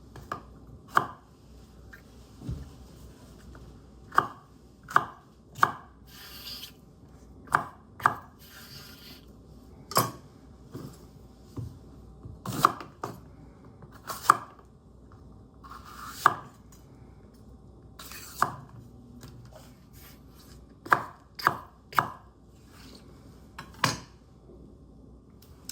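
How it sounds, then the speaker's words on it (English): A knife cuts bell peppers into small squares on a cutting board, sharp isolated chops spaced irregularly across a quiet kitchen, sometimes in quick pairs or clusters. "Then I'm going to basically cut these into squares."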